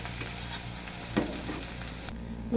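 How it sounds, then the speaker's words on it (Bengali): Chopped garlic frying in hot oil in a pan, a steady close sizzle with light stirring scrapes and a brief clatter partway through. "রসুনটাকে একটু ভেজে নেবো, লালচে লালচে করে ভেজে নেবো।"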